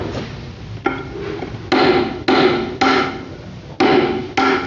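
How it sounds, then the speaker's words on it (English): Sharp, ringing metallic strikes of a 2-pound hammer on a splitting chisel cutting stone, about seven blows at a slow, uneven pace, close and loud. "For larger rectangles, I use a 2-pound hammer and a splitting chisel."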